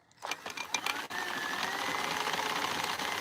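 A knitting machine starts up after a few clatters and then runs with a steady, even mechanical whirr and rattle, close and fairly loud, with no talk.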